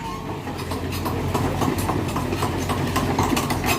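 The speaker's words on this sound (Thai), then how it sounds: "บ๊อบแคท E55 นะครับ เดี๋ยวให้ดูความคล่องตัวนะครับ" A new Bobcat E55 mini excavator with its diesel engine running, a steady close rumbling drone with a low throb and no talking.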